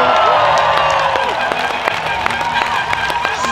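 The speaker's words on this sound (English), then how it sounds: "She can hear the big cheer up the wall there." Crowd cheering and whooping at a Crankworx Rotorua mountain bike event, loud and continuous, with a commentator talking over it and scattered sharp clicks or claps cutting through.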